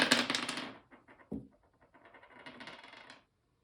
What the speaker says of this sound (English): I'm going to roll 3 dice.